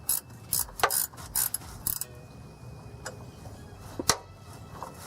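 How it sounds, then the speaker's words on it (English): Ratchet spinning a nut off a long bolt on a GMC 350 engine during tear-down, quick bursts of rapid clicking separated by pauses, close and fairly loud. "I'm going to hold the nut while you spin it off."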